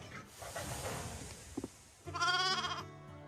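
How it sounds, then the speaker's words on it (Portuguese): Cartoon sheep from a Thomas & Friends episode let out a loud, drawn-out bleat near the end, after some softer background sounds and a couple of brief knocks. "Minhas ovelhas muito importantes."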